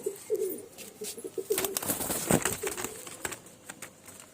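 Soft, low coos from a female pigeon and others in a loft repeat through the clip, mixed with rustling and faint fluttering close by.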